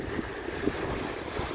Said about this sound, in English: Fairly strong wind coming in from the northeast.